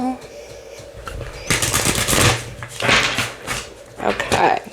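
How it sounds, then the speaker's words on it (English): A tarot card deck is shuffled by hand in a few quick riffling bursts, each flurry of card snaps rising and falling, close and fairly loud. "One more shuffle."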